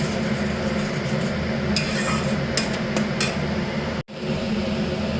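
Potatoes and paneer fry with masala in a pan while being stirred, giving a steady close sizzle with light scraping clinks of a utensil against the pan.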